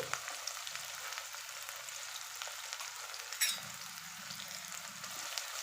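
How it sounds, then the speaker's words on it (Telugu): Onions frying in a pan for an egg and dried fish curry, a soft steady sizzle heard close and alone, with a brief stirring clink partway through. "ఈ ఎర్రగడ్డల్ని కొంచెం బాగా ఫ్రై చేసేసుకోవాలి"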